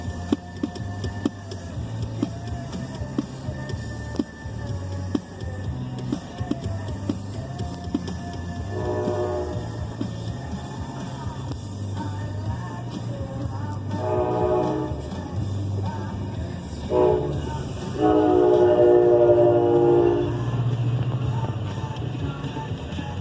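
NJ Transit train departing New Bridge Landing station toward Spring Valley, New York, with a low steady engine hum and rumble throughout, rising into louder tonal horn-like blasts and rolling noise in the second half.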